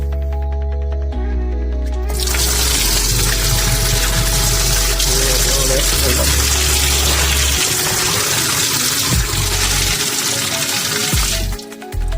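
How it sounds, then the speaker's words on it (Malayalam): Water rushing out of a semi-automatic washing machine's drain section, a loud continuous gushing flow that starts abruptly, holds steady close by, then cuts off near the end. "ഇതാണ് വെള്ളം ഡ്രെയിൻ ആവുന്ന പോർഷൻ."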